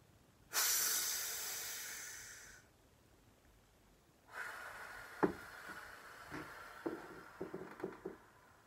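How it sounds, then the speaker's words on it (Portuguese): A trumpet player's deep breath in that fills the belly during breathing practice: one long, close airy inhale, then quieter breathy hisses and soft puffs after a pause. "Eu vou encher, vou mostrar aqui minha barriga enchendo"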